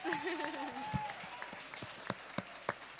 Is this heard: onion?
no